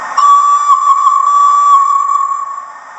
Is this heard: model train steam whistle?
yes